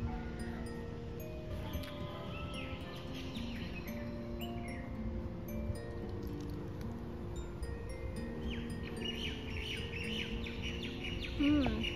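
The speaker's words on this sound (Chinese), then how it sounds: "嗯，鸟叫声，" Birds chirp and tweet outdoors in a steady scatter of calls, with faint insect buzzing and rustling in the background.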